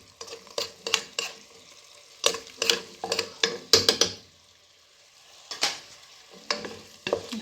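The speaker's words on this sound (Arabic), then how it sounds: "نحرك كلش" Rice with ras el hanout and black pepper stirred in a pan: bursts of scraping, clattering spoon strokes with sizzling between them, close by, alternating with short quieter pauses, no talking.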